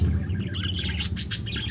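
Budgerigars chirping at a nest box, including opaline green and spangle birds, with quick high twittering calls layered over steady low aviary hum.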